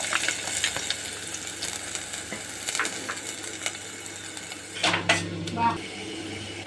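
Onion and garlic frying in oil in a kadai, a soft continuous sizzle with light crackles, then a few clinks of a spoon against the pan near the end, close and fairly quiet.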